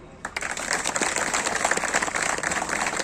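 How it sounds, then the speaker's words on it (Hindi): Audience clapping for the chief guest at a battalion founders' day celebration, a dense steady patter of many hands starting abruptly and continuing loud and close throughout. "सर के लिए आप लोग ताली बजा दो"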